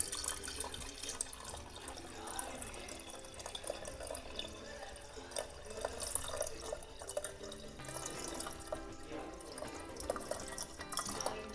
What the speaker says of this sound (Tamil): தண்ணி அந்த பக்கத்துலேருந்து ஊற்றணும்